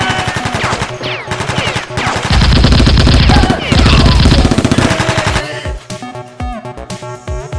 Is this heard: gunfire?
yes